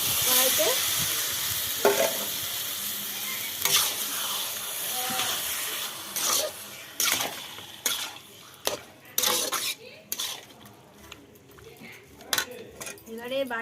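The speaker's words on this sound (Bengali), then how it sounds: "1 ঘন্টা ম্যারিনেট করে রেখে দিয়েছিলাম মটনটা, সেটা দিয়ে দিলাম কড়াইতে।" Marinated mutton frying in a kadai sizzles and hisses loudly at first, then a spatula stirs and scrapes against the metal in irregular clattering strokes as the sizzle continues, with a voice talking over the cooking.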